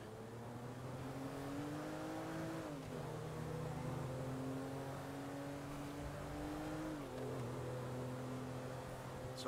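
A car engine drones in Grand Theft Auto V, its pitch rising steadily and then dropping twice as it shifts gears, faint and continuous.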